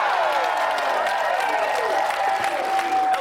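A studio audience on a French TV game show applauds in a continuous, even wash of clapping, with gliding musical tones sounding over it.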